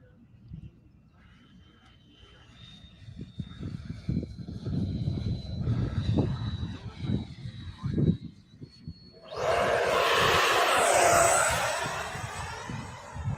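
A 70mm radio-controlled jet plane takes off: several seconds of nearby voices talking give way to a sudden, loud, sustained rushing roar with a high whine that stays strong to the end.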